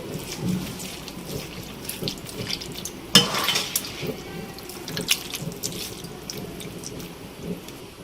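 Minced meat, lentils and water are mixed in a pot, giving soft wet sloshing and stirring sounds with occasional clinks against the metal pot and one sharper knock midway, fairly quiet and without speech.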